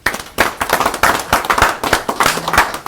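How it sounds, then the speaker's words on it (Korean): Applause from a small seminar audience greeting a presenter: a short burst of uneven, close, fairly loud hand claps from a modest group, individual claps distinct rather than blended. "큰 박수 부탁드립니다"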